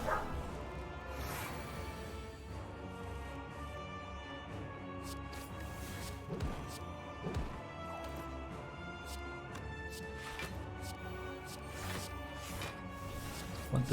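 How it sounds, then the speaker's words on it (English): A dog barks repeatedly outside an open window, the yips coming in scattered bursts that sound distant and faint beneath steady background music and game sounds. "Dog is upset about something."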